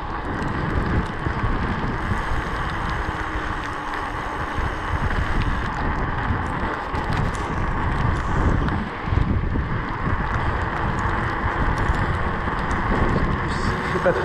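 Steady broadband wind roar buffeting the microphone during a mountain bike ride, with continuous low rumble and no clear pauses.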